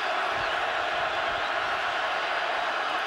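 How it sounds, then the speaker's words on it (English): A large stadium crowd roars steadily at a college football game at Memorial Stadium, Texas Tech against Nebraska, a dense continuous wash of cheering with no break. "Crowd calling on this black shirt defense to do something with the Red Raiders."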